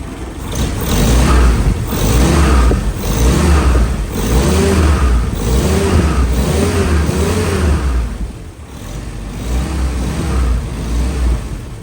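A car engine revs steadily and loudly close up, pitch rising and falling in repeated surges over a constant low rumble.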